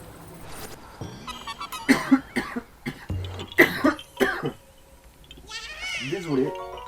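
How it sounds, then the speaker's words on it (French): A person coughs in several short bursts, some hoarse and bleat-like, close to the mic, with speech around them while playing Breath of the Wild. "Je fais tout ce que je peux pour retenir la toux, mais par moments elle est plus forte que moi."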